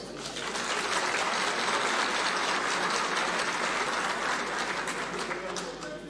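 A large outdoor crowd applauds at the opening ceremony of the Mesopotamia Agriculture Fair, with loud, dense, continuous clapping that holds steady for several seconds before easing slightly at the end.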